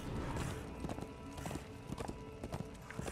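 Horse hooves clip-clop at a steady riding pace in Darksiders II, a continuous run of muffled hoofbeats over an ambient game soundscape, fairly quiet, with no talking.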